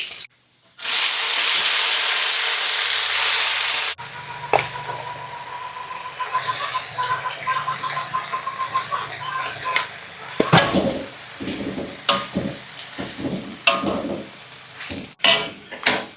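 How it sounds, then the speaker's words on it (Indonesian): Water spinach stir-fried with garlic and shallots in a wok: a loud hiss of the hot pan opening, then sizzling with scraping and clinking of a spatula, short bursts of louder frying, and talking over it. "Jadi untuk kangkungnya kita tumis bawang putih, bawang merah aja"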